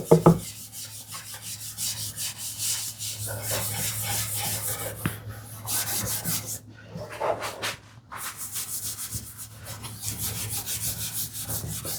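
Beeswax finish rubbed by hand onto a wooden TV unit, along the grain and in circles, producing close, continuous soft rubbing strokes with brief pauses between passes.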